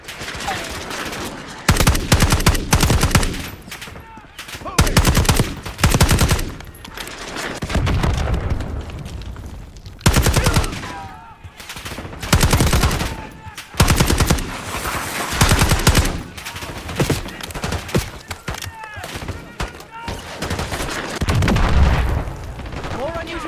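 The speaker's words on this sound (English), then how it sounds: "We got a hostile with a minigun." Minigun fire rips through a Black Ops 6 campaign battle in long, dense bursts mixed with booming explosions and other gunshots, loud and close, with shouted voices in between.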